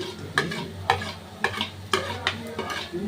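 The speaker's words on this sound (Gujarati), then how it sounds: "આપણે તેની અંદર આ રોસ્ટ કરેલા ઘીમાં શેકેલા અખરોટ, કાજુ અને બદામ એડ કરી દઈશું" Ghee-roasted walnuts, cashews and almonds are stirred into softened dates in a pan. Five or six rhythmic scraping strokes about half a second apart rattle over a soft frying sizzle, close and moderately quiet.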